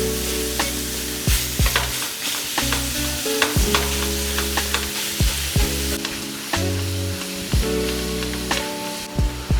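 Half a pack of pork sage sausage and half a pound of ground beef fry in a pan, a steady loud sizzle broken by repeated scraping strokes of a utensil breaking up and stirring the meat.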